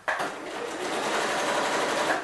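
A sewing machine runs steadily for about two seconds, stitching a seam on a rotary purse. The motor's even whir starts abruptly, stays close and loud, and has no talk over it.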